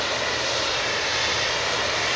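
A Qatar Airways airliner flies near Phuket airport, its engines giving a steady, loud broadband roar that holds throughout with no talk.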